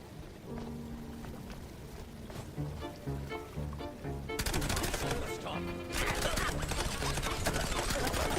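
Rapid video game gunfire bursts over game music and effects, growing louder and denser in the second half, with a player talking.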